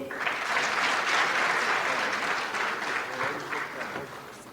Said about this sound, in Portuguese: Mais palmas, por favor.